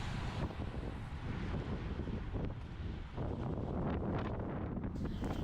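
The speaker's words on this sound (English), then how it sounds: "we're in this headwind right now" Steady headwind roars and buffets against a microphone during a fast group road ride on Oahu, a loud continuous rumble with gusty surges and no clear talk.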